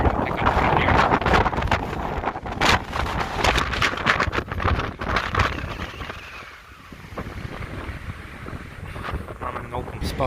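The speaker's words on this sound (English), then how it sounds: "I can already feel the wind starting to pick up in here." Strong hurricane gusts by a river batter the microphone in loud, rushing buffets that ease briefly midway, with a person talking over them.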